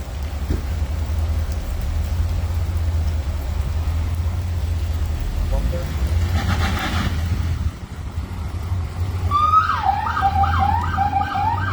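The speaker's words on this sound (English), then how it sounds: "Ambulance leaving with the victim there." A wailing ambulance siren rises near the end over steady low traffic rumble and background noise, growing louder as the ambulance approaches.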